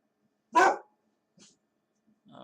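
Dogs barking in the video game Dungeon Painter: one loud, close bark, then a faint short yip and another bark starting at the end, with silence between.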